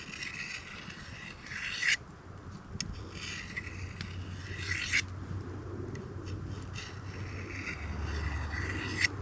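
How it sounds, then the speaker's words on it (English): A knife blade is drawn along a sharpening rod outdoors at a bushcraft camp, giving repeated faint scraping strokes spaced a couple of seconds apart over steady outdoor ambience, with no talking. "making sure there's no space in between the sharpening rod and the blade"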